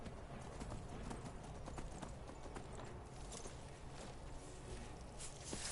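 Horse hooves clip-clop steadily in the video game Skyrim, a continuous walking rhythm heard close over a dense, noisy game background.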